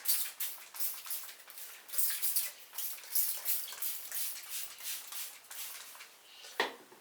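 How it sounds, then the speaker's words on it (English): Water from a spray bottle misted onto hair, a quick run of close, hissing spritzes one after another, ending with a brief louder knock. "So I'm just going to spray a little water just to help my hair out a little bit."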